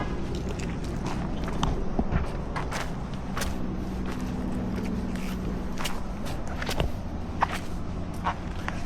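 Footsteps on a forest hiking trail in the Great Smoky Mountains, a steady crunching walk over a constant broadband background roar like distant interstate traffic, with a few sharper snaps and thuds along the way.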